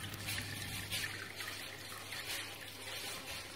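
A thin stream of alcohol distillate trickles steadily from the outlet of a reflux still on its first run, a soft continuous liquid patter over a low constant hum, close by, with no voices.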